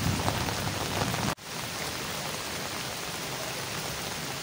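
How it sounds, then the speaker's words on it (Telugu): Heavy rain pours in Eluru, a dense, loud, steady hiss of drops on surfaces that drops out for a split second early on and then resumes just as strongly. "ఏలూరులో అయితే ఫుల్ వర్షం"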